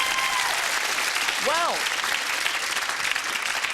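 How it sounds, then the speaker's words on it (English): A 1990s television game show studio audience applauds, a dense sustained clapping that stays loud throughout while a host speaks over it. "Round of applause there for that"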